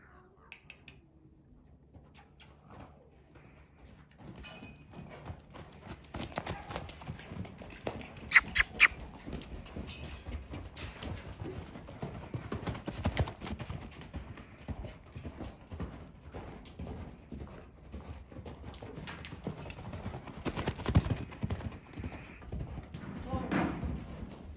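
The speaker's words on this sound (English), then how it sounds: "He's picking up his canter lead for you faster now." A horse canters, its hooves clip-clopping in a quick, uneven rhythm that grows louder and busier after a quiet start, with voices talking in the background.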